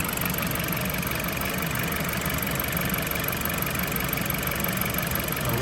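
A 2010 Dodge Avenger with the 2.4 engine, treated with head gasket sealer, idles in a steady, even mid-pitched hum with a faint ticking texture, close by and unbroken.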